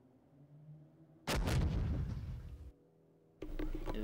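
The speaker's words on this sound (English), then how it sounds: "155mm cannon." Two heavy 155mm cannon blasts in a game, the first a booming roar that rumbles for over a second before cutting off, then a second shot starts.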